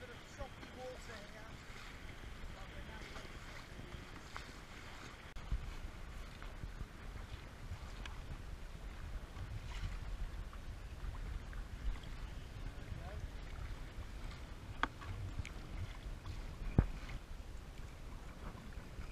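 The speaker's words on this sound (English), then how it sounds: "We're hitting the little choppy bit between a kind of back eddy over near the Royal George pub and the joining of the tour" A kayak working through choppy water where a back eddy meets the tidal flow near the Bideford Bar, with faint splashing, water slap and wind noise throughout, quiet and close, and a few sharper paddle knocks near the end.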